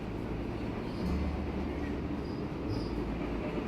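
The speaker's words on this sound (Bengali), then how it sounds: "ঠিক টাইম মতোই ট্রেন রওনা দিয়ে দিল শিয়ালদহ স্টেশন থেকে কৃষ্ণনগরের উদ্দেশ্যে" An AC local train runs from Sealdah toward Krishnanagar, a steady low rumble of wheels on track heard from inside the carriage, with faint rattles and a thin squeal at times, continuous and even throughout.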